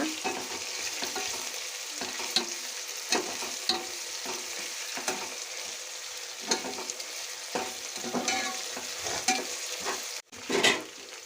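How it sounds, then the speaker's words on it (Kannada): Chicken biryani ingredients frying and being stirred in a pan, a steady close sizzle broken by frequent sharp scrapes and clinks of the spoon against the pot, with no voices. "ಹಸಿ ಸ್ಮೆಲ್ ಹೋಗೋ ತನಕ ಇದನ್ನು ನೀಟಾಗಿ ಫ್ರೈ ಮಾಡ್ಕೊಳ್ಳೋಣ"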